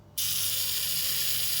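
Mechanical self-timer on an Olympus OM-1 film camera, all-metal, whirring steadily and close up after a click-like onset, a continuous buzzing gear-train sound that runs the whole time.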